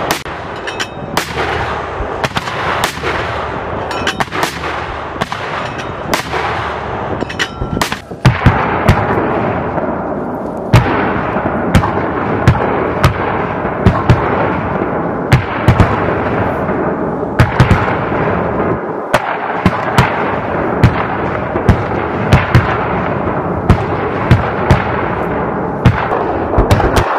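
American soldiers carry out rapid mortar fire outdoors, producing a dense, loud barrage of booming blasts and sharp reports with continuous rumbling and crackling throughout.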